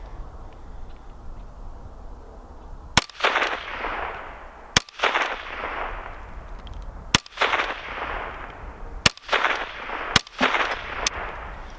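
A CZ 512 semi-automatic rifle fires five separate shots outdoors at a steel target range, each a sharp loud crack followed by a rolling echo, spaced unevenly a second or two apart.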